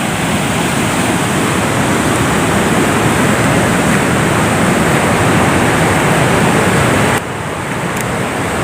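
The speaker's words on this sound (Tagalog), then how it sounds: "Sobrang laki talaga ng tubig." Floodwater rushes over a bridge in a loud, constant roar of broadband noise that holds steady throughout, dropping slightly in level near the end.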